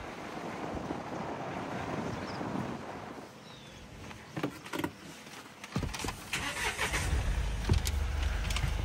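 A closed safari jeep pulling away toward Gir forest, engine rumble and heavy wind buffeting the microphone, the noise dipping midway and then swelling again as the vehicle speeds up, with scattered knocks and rattles and no talk.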